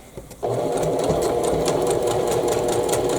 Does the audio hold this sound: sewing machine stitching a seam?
yes